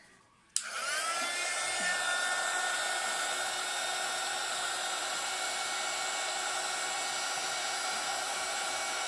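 A small handheld embossing heat gun switches on abruptly and blows a steady, loud whirring roar with a high whine, running continuously without pause.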